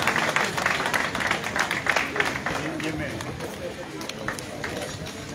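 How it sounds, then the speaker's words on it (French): At a political party congress, a crowd applauds in a steady, close wash of clapping that runs the whole time, with faint voices and hall noise underneath. "Je voudrais qu'on les applaudisse s'il vous plaît."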